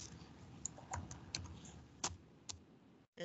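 Quiet computer keyboard keystrokes entering a dimension value of 1.75 and Enter in Onshape CAD software, a handful of soft, irregular clicks at close range.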